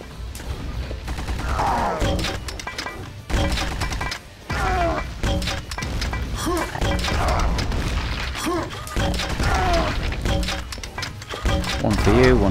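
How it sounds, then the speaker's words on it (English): Grenade blasts and gunfire from the shooter game Quake 2 Remastered, repeated booms and crashes in a dense, loud mix of combat effects, with someone talking over much of it. "I'm gonna do a speculative grenade."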